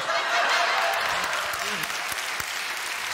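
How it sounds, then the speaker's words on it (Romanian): Audience applause fills a comedy roast battle in a Romanian iUmor semifinal, a dense, steady clapping wash with a few faint chuckles and voices scattered underneath. "Aplauze pentru ei."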